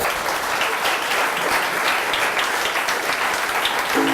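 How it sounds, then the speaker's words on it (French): Audience at a Fnac store performance in Lausanne clapping, a thick sustained wash of many hands lasting several seconds at steady loudness. "Vous pouvez l'applaudir quand même."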